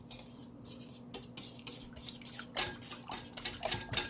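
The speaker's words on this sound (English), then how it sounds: "Then I'm going to give this a good whisk." A whisk beats custard for bread pudding in a bowl, giving a quiet, steady run of scraping, clinking strokes against the bowl's side with brief gaps, close by and without talk.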